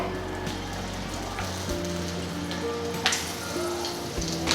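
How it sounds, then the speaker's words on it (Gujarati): Stuffed chillies shallow-fry in hot oil in a pan over a low flame, giving a steady, close, dense sizzle with occasional louder crackles and a faint hum running underneath. "મરચાંને શેલો ફ્રાય કરતી વખતે તેલના છાંટા ખૂબ ઉડે છે"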